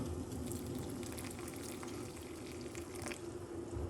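Pot of water heating on a stove toward a boil, giving a steady, continuous hiss and faint bubbling with small crackles, close and even throughout with no voices.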